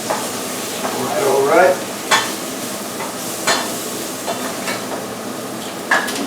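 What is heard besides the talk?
mushrooms and onion frying in butter in a pan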